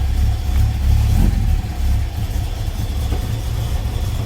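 The engine of a 1976 Jaguar XJ6 Series 2 runs steadily after its choke is eased back, a close, low rumbling idle with a slight swell in revs early on before settling into an even drone.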